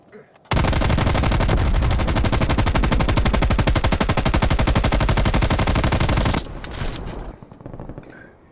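Stoner 63 machine gun firing in a video game, one loud, sustained, rapid full-auto burst of about six seconds, then a softer tail of echo and lingering game sound.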